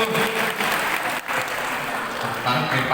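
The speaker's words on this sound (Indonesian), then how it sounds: "Tepuk tangan atau tepuk tangan?" An audience at a Hajj pilgrimage guidance session claps in steady, dense applause that fills the hall, briefly dipping before picking back up, with a voice audible under the clapping.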